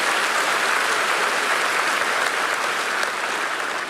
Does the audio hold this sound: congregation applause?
yes